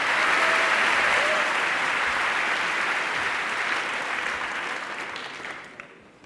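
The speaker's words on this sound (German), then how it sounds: "Begrüßen Sie mit einem donnernden Applaus Janina Otto." Thunderous applause from a live audience at a science talk, a dense wash of clapping that stays loud and even before thinning and fading out near the end.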